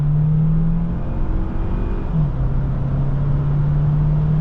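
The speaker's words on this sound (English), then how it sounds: "that all-wheel drive system definitely helped me get out of that slick turn with full throttle" A 2025 Kia Sportage Plug-in Hybrid with all-wheel drive accelerates at full throttle on a slick road, heard from the cabin as a steady droning engine whir that shifts pitch once and keeps rising, with no talking.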